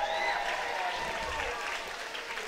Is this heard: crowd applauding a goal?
yes